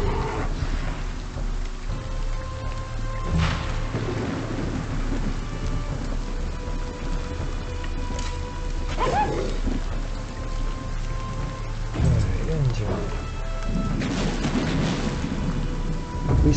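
Thunder rumbles and cracks over steady rain during a storm in the Wartales video game, several loud booms at irregular intervals over continuous rainfall, with no talk.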